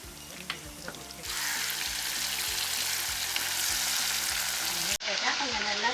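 Drumsticks, fresh moringa pods, frying in hot oil, a steady loud sizzle that surges up after a second and holds, with a soft stir or clatter and a brief drop near the end. Faint voices run under the sizzle.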